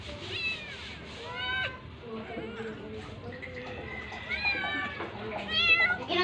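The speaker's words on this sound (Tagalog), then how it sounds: "Magutom na mga kuting." Hungry kittens meow repeatedly at close range in a home, their high, insistent cries overlapping with people talking nearby.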